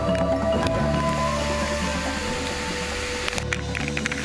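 Water rushes and splashes over a whitewater rafting boat in a steady, loud wash of churning spray that continues for the whole stretch.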